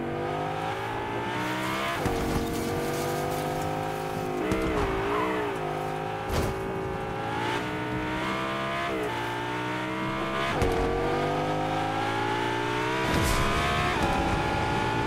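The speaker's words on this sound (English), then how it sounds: "Oh yeah, there's a car right here." A car races in the Fortnite video game, with a steady engine drone, rising revs and tire squeals on sharp turns, heard alone and fairly quiet.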